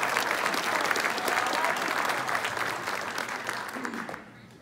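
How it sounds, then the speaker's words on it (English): An audience at a coding-program graduation claps in a dense, sustained round of applause that holds steady and then thins out and fades near the end. "Round of applause for Jeffrey."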